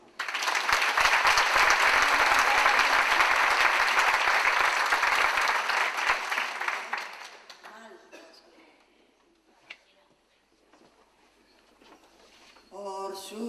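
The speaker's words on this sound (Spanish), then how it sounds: "Un aplauso." Audience applause after traditional Asturian ronda singing fills the room loudly for about seven seconds, then fades, leaving faint voices and a soft rustle before another brief swell of sound at the end.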